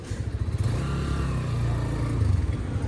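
A Honda CB150F motorcycle rides away on a street near a roundabout in Islamabad, its engine droning steadily and loud at first with a low, throbbing rumble that holds through the whole stretch.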